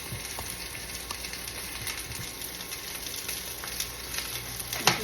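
Onion, garlic, ginger and chili sauté in a pan with a steady close sizzle, broken by a few light utensil taps and a louder clack near the end, with no talk.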